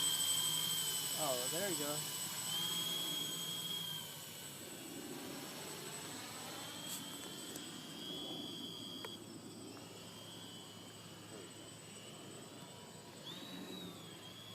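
A four-engine model helicopter lifts off under manual control, its high-pitched motor whine steady and close throughout, with people talking over it.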